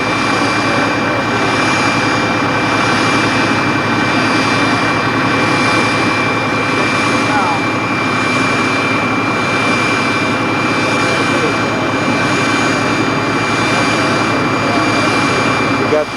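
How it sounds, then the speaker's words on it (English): A US Air airliner's engines roar in a steady, loud, unbroken whine and rumble close by on the ramp, with the pitch holding level throughout. "we're getting ready to tow the aircraft around, turn him around, start him up"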